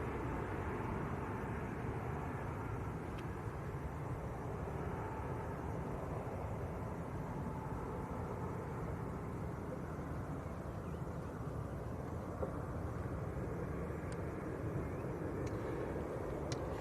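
A Ryanair plane to Rome departing Manchester Airport, a constant low jet roar that holds evenly throughout, heard at a distance.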